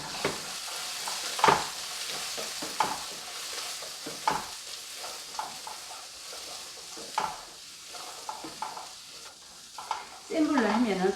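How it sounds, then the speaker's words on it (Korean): Garlic stir-fries over low heat in a pan, a close, steady sizzle punctuated by repeated scraping strokes of a spatula and a louder burst of frying at the end, with no talk. "이제 마늘을 볶을 거예요."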